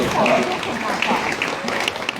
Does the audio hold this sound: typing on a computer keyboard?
no